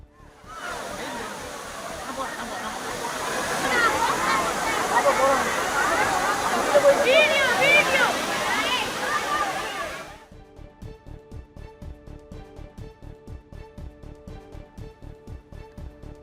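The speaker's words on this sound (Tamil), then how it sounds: "அருவியில் நீர்வரத்து சற்று குறைந்து காணப்படும் நிலையில்" Kaviaruvi waterfall at Aliyar in the Anamalai Tiger Reserve, flowing with somewhat reduced water, gives off a loud, continuous rushing roar for about ten seconds before cutting off abruptly, followed by quieter rhythmic pulses, with a voice speaking over it.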